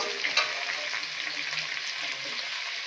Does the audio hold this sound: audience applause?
no